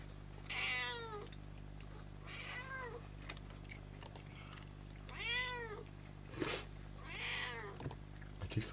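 A pet cat named Tom meows several times indoors, drawn-out rising and falling calls spaced a second or two apart, fairly close, over a steady low electrical hum with a few small clicks between.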